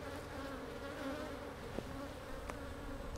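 Honey bees, including nurse bees, buzz in a dense, steady drone close by at an open hive, with a couple of brief louder passes.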